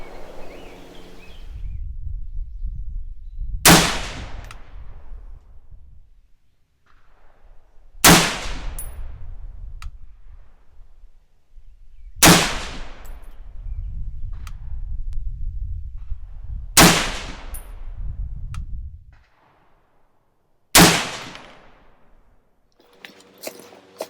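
SOCOM16 rifle firing IMI 7.62mm NATO 168 grain match ammunition, five sharp, loud single shots spaced several seconds apart, each with a short ringing decay, separated by quiet low rumble.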